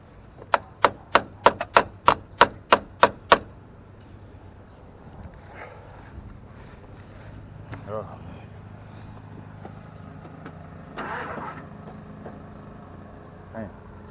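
A truck engine cranks with about ten sharp, evenly spaced pulses, then settles into a low, steady running rumble, with brief voices over the engine.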